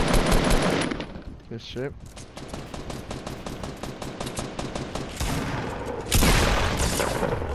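Rapid bursts of automatic gunfire in a video game, loud and close, with a dense rattling volley in the middle and heavy firing at the start and end, while a voice speaks briefly over it.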